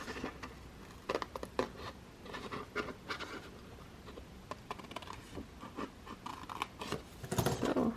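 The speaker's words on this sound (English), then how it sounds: "cut around as close to the line as I can." Scissors cutting paper along a drawn line for a craft layout, a quiet close-up series of irregular snips and rustles, with a louder crinkly cut near the end.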